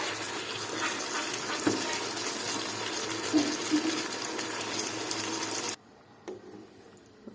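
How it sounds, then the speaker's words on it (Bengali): Water pours steadily into a pot of cooking chicken, a close, continuous gushing that stops abruptly, followed by a few faint knocks. "জল দিয়ে দিলাম।"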